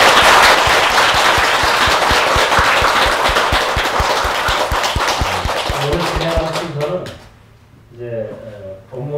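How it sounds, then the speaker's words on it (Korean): A congregation at a Seoul Seon meditation center claps to welcome a senior monk, sharp crisp claps that fade after about six seconds as a voice begins speaking. "먼저 일단 우리 큰 스님 오신 거를 환영의 박수를 먼저."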